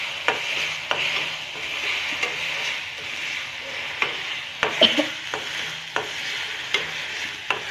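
Turmeric being fried and stirred in a pan: a constant sizzle with regular scraping strokes and light clinks of the spoon against the pan, close and clear.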